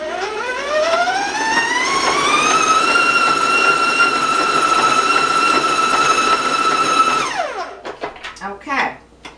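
A stand mixer with a paddle spins chocolate sprinkle cookie dough. The motor whine climbs in pitch, holds steady at full speed for several seconds, then winds down into bumps and clatter.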